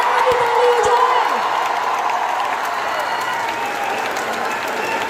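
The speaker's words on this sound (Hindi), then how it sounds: "थोड़ी जोरदार वाली ताली हो जाए।" An audience at a live student meet-up for Gaurav sir breaks into dense, sustained applause with some cheering. The clapping is loudest at the start and stays steady throughout, and a voice briefly rises over the crowd early on.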